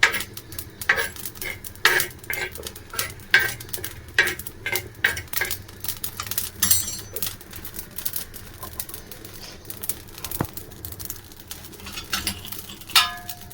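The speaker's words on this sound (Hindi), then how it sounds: "इनको हल्का हल्का सा रोस्ट कर लेंगे।" Ingredients for raita being lightly dry-roasted in a pan make quick, irregular clicks and taps as a utensil stirs them, with soft scraping between, fairly faint and with no talk.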